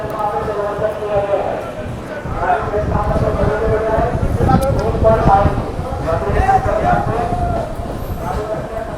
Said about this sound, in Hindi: संपर्क क्रांति एक्सप्रेस ये सनटिंग के लिए जा रही है।